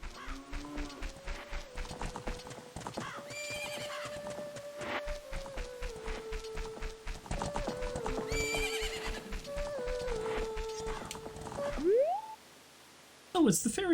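A horse in The Legend of Zelda: Ocarina of Time gives a short in-game whinny amid steady rhythmic clip-clop and upbeat game music, with a brief quiet gap near the end.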